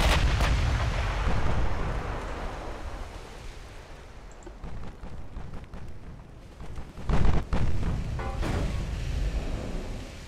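Secondary guns firing on transports in the naval video game Ultimate Admiral: Dreadnoughts, with repeated booming gunfire and rumbling blasts over a continuous sea-like roar, loud and close, with a heavier burst near the end.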